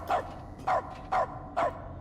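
A human voice imitates a dog barking, giving four evenly spaced, close, clear woofs over a quiet low background.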